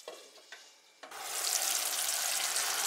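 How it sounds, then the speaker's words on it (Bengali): Chicken curry in a pan takes a splash of water, and the sizzle swells into a loud, steady hiss of bubbling and frying that carries on to the end. "এবার দেখো অল্প করে জল অ্যাড করছি আর কিছুক্ষণের জন্য চাপা দিয়ে রেখে দেবো যাতে চিকেনটা সেদ্ধ হয়"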